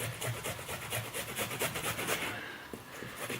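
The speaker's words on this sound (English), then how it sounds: "what you want to do with your ginger is you want to grate it" Fresh ginger scraped over the fine side of a grater gives quick rhythmic rasping strokes, close and soft, repeating steadily for a few seconds.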